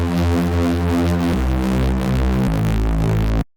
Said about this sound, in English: even just default tube distortion.